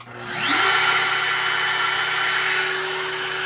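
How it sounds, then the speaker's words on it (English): A PWNCNC 1.5 kW 65 mm water-cooled CNC spindle spins up from silence, its whine rising within half a second to a loud, steady high-pitched hum that holds for the rest of the clip. "then we'll just turn the spindle on"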